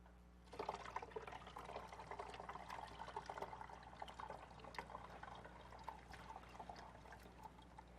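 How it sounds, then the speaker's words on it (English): Whey liquid from curdled milk being poured into a cheesecloth-lined strainer during cheesemaking, a steady, continuous splashing pour that starts suddenly and runs on for several seconds at moderate volume. "have Becca pour all that liquid right into the cheesecloth and strainer"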